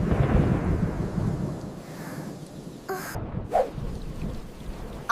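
Cartoon thunderstorm with steady heavy rain and a rolling rumble of thunder, plus a sharp crack near the middle, loud and continuous, with no talk.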